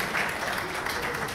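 An audience at a political gathering applauds to welcome a speaker, with a dense, steady wash of clapping heard briefly and up close.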